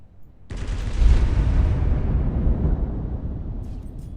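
High-explosive shells from a battleship striking an enemy ship in the Roblox game Naval 1945: a sudden loud booming impact that rolls on as a dense, rumbling blast, slowly fading over several seconds with no voices.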